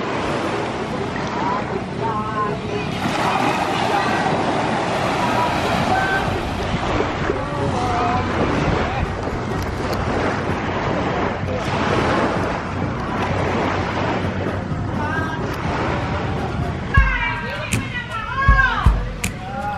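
Surf rolling onto a quiet beach with steady wash and wind buffeting the microphone, continuous and fairly loud, while people talk and voices come through intermittently over the waves.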